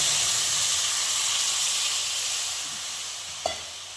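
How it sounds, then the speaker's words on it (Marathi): Water hits a hot pan of fried onion, tomato, peas and spices for masala Maggi, producing a loud, steamy hiss that slowly eases off, with a single clink near the end. "आता आपण पाणी ओतून घेणार आहोत"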